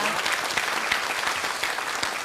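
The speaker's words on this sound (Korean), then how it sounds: "박사님께 다시 한번 큰 박수로 감사 인사를 전하고 싶습니다" Applause from a studio audience thanking a guest lecturer after a talk on success, fairly soft and steady, with individual claps standing out against the dense clapping.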